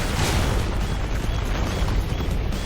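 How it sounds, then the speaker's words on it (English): Fireball blasts in Final Fantasy XVI, a dense, continuous roar of booming explosions and bursts, loud and close, layered on one another without pause and with no talking. "shooting fireballs constantly"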